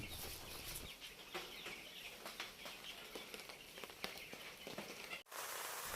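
Chickens clucking and rustling after being taken out of a dirty cage on a rooftop farm, a busy cluster of overlapping bird calls, wing flutters and scuffling that run steadily throughout, then a brief dropout near the end.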